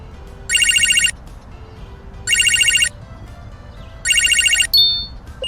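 A telephone rings in three evenly spaced electronic bursts over low background hiss, each burst a bright trilling tone lasting about half a second, with a brief different beep at the end.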